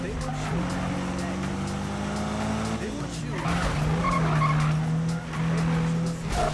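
A car drifts and slides through corners in the Need for Speed racing game, its engine droning loudly with a tire squeal running under someone talking.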